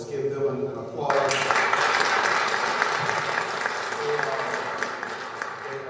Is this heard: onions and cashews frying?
no